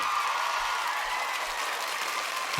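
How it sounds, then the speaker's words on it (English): Background applause from a large crowd, as if about 200 people are clapping for finalists in a big museum at an awards ceremony, a steady even wash of clapping kept at moderate level throughout. "I put a little bit of an applause at the back, as if we are in a big museum right now with 200 people applauding the finalists"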